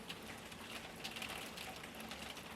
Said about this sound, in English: It's absolutely raining like crazy.